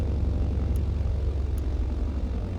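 Piston propeller aircraft engine roaring at full takeoff power in Microsoft Flight Simulator 2024, with mixtures and props full forward: a steady, loud, dense drone with no talk over it.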